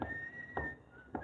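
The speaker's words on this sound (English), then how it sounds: "The light also glittered off a pair of gold teeth front and center that he whistled through as he passed." A man whistles through gold front teeth as he passes, holding a single thin, steady pitch with faint thumps and background noise in a radio drama setting.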